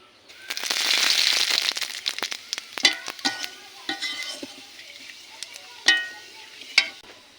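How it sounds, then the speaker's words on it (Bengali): Pre-cut potatoes dropped into hot oil and frying, a loud initial sizzle that settles into scattered crackles and sharp pops from stirring, with no talking. "তেলের ভিতর দিয়ে দিব আগে থেকে কেটে রাখা আলু। আলুগুলো লাল লাল করে ভেজে নিব।"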